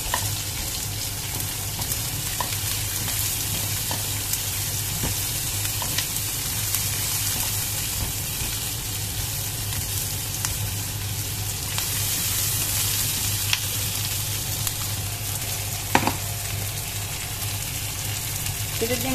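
Sliced onion sizzles in a pan still holding pork chop drippings, a steady close frying hiss running throughout with faint clatter underneath.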